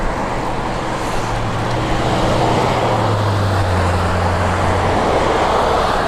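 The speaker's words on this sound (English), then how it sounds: "It's the reason you see all the traffic going by." Steady stream of road traffic passing around 5 p.m. in the evening, a continuous close rumble of car engines and tyre noise with a low droning hum and no talking.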